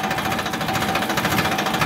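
A Farmtrac 60 tractor engine labouring under load while pulling a sugarcane tillage implement, a loud, steady, rapid diesel chugging that fills the whole stretch without letting up.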